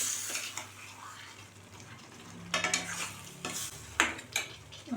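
Chunks of pidi karunai kilangu yam are stirred into a simmering tamarind masala gravy, a soft sizzle under several scraping, clattering strokes of a spoon against the pan.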